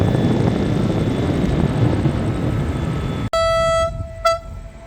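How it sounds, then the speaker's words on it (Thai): A broad roaring rumble of an airplane passing overhead, then cut off abruptly by a loud sustained train horn blast with a short second toot. "อย่างตรงโน้นก็คือเครื่องบินบินผ่านครับ"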